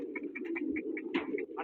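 A pigeon coos out in the open during a pigeon-flying contest, a string of soft, evenly spaced calls over a steady low hum, fairly close and moderately loud.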